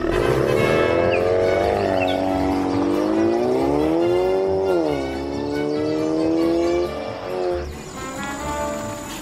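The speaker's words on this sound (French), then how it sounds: "Je veux vous remercier pour nous avoir aidés à démarrer la voiture." A car engine in a video game hums steadily with a pitch that rises and falls as the vehicle drives, loud and continuous throughout, with no talking.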